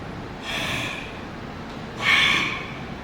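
Two forceful breaths blown close onto a new rubber golf grip, a shorter huff followed by a louder, longer exhale about a second and a half later, each breathy and hissing with no talk.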